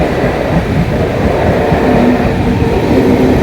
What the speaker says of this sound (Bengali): হ্যাঁ, ট্রেন যাচ্ছে।